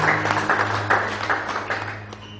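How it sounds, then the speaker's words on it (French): A church congregation applauds the Lord together, a dense, continuous wash of many hands clapping at moderate volume over a low steady hum, tapering slightly at the end. "Laisse-nous applaudir le Seigneur."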